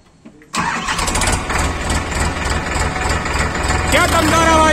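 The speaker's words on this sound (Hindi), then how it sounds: "ट्रैक्टर की आवाज सुनना आप" After a brief quiet moment, an Indofarm tractor engine cranks and roars to life, then settles into a loud, steady rumbling idle, close by.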